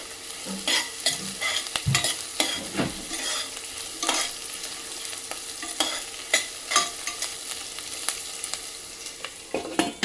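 Green chillies and curry leaves fry in a pan for a paneer masala curry. A steady sizzle runs under repeated close scraping and stirring strokes of a spoon against the pan, and no one speaks.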